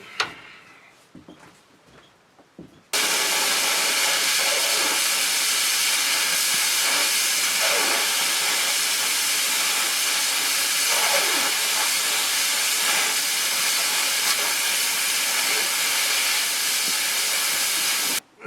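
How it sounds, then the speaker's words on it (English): A cutting torch roars with a loud, steady broadband hiss as it burns through metal on a sawmill carriage, starting abruptly after a few seconds of quiet knocks and continuing unbroken before cutting off at the end. "I'll go ahead and get the torch again and whittle some more off of that"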